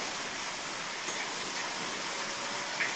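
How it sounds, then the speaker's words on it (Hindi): Heavy rain pours outside in a steady, dense hiss that stays even and moderately loud throughout, with no voices over it. "बाहर बहुत भारी बारिश हो रही है."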